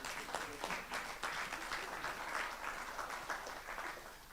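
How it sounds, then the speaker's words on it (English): Meeting attendees applaud together in a steady round of clapping that fills the room, dense and even with a few sharper individual claps, lasting the whole stretch. "we must give ourselves a big round of applause"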